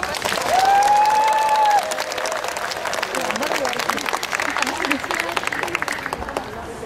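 An outdoor festival audience applauds as a children's choir takes the stage, a sustained crowd of clapping with a voice over it at first, then fading gradually to scattered claps.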